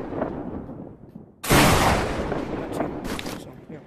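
A superhero shield weapon fires in the Battle Talent VR game with one sudden loud blast that decays into a rumbling tail, followed by softer bursts.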